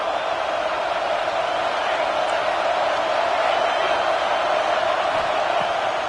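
A football stadium crowd at an Aggies game roars in a dense, steady, full-throated wall of noise that holds without a break, with commentary voices faintly woven in.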